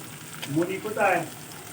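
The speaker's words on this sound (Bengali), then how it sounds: "এই যে কাঁচা লঙ্কা দিয়ে দিলাম ভাজা ভাজা হয়ে গেছে" Green chillies fry in spiced oil in a pan, giving a soft sizzle under a voice speaking nearby.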